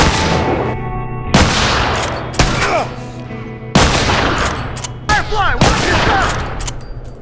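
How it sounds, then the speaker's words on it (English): A repeater rifle fires in The Last of Us as about five sharp, loud shots spaced a second or so apart, each with a short ringing tail, and faint game voices sit in the gaps. "will we get to see and ultimately get to use this repeater rifle"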